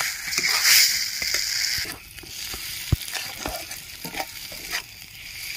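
Mashed, roasted pointed gourd paste with salt being stirred and mixed in a pan, giving a close, continuous scraping and squelching with a faint sizzle and occasional sharper knocks of the utensil, no voices.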